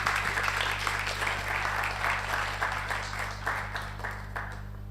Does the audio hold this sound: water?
no